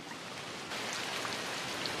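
Stormy rain falls in the northern Serengeti as a dense, steady hiss of drops that grows slightly heavier partway through, with no voices.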